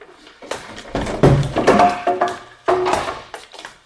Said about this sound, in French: Aide-moi à enfoncer la porte.